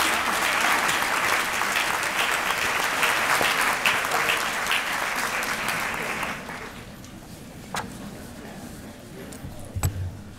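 Sustained, dense applause from a large audience on its feet, welcoming Theotis Robinson Jr. at a University of Tennessee event, steady for about six seconds before thinning to scattered claps and room noise.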